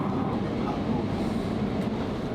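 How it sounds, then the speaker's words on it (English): An Elizabeth line train runs through London, a steady low rumble and hum from inside the carriage, with a faint murmur of voices in the background. "Honestly, the thoughts of this train is that it's quite fast and it's quite silent compared to the other trains."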